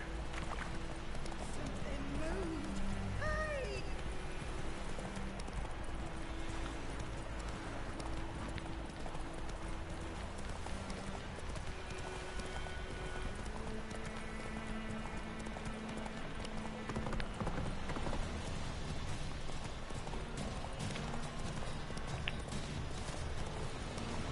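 Roach the horse galloping in The Witcher 3: Wild Hunt, a steady fast clip-clop of hooves running throughout over a low ambient bed, with a voice talking at times.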